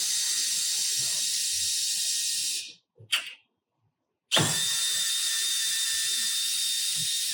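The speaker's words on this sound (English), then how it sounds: "I'm going to remove 2 Phillips head screws from one side of this spreader bar." A powered Phillips head driver whirs steadily while backing two screws out of one side of a chaise lounge spreader bar, close and continuous, with a brief stop in the middle before it resumes.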